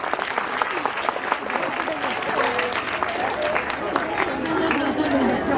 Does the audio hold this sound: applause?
yes